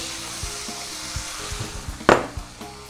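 Hot pot sizzling and crackling, with a sudden loud hiss as water is poured in, followed by bubbling pops.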